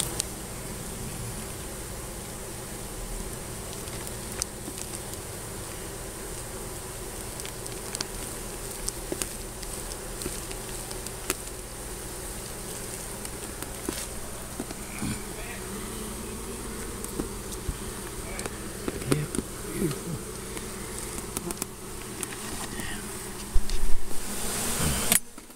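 Honey bees buzz continuously during a hive removal beneath a modular home, a dense close swarm drone with scattered louder passes and faint knocks, rising near the end, with no speech.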